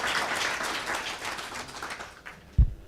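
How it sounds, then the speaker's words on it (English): An audience claps in a room, a dense burst of applause that fades out over a few seconds, ending with a sharp thump. "Another round of applause for Mrs. Chamwada"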